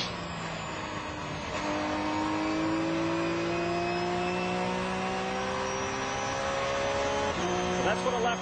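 A Daytona prototype race car lapping Lime Rock Park, the 1.5-mile circuit in northwestern Connecticut, heard from onboard as a loud sustained engine note climbing through the revs, with a gear change cutting the pitch before it rises again.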